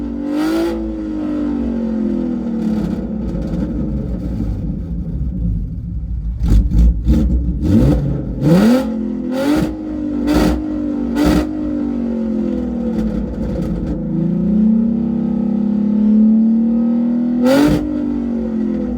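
A 2011–2014 Ford Mustang with a 3.7 L V6, fitted with a ported intake and running a 93 pump-gas race tune, idles then is revved repeatedly in sharp blips, loud and close, with the engine note rising and falling.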